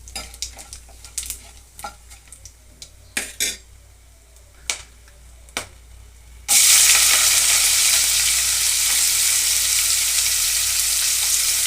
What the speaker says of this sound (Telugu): ఇదిగోండి ఉల్లిపాయలు వేగినాయి